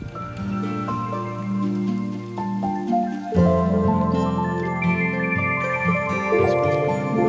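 Steady rain patters on surfaces during a hike in the Chianti hills, a continuous soft hiss of drops mixed beneath prominent music.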